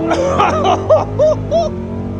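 A cammed Dodge Demon 170 V8 accelerating hard in second gear, loud and close, its rough lumpy drone surging with rising pulls over a steady low rumble, excited voices cutting in briefly.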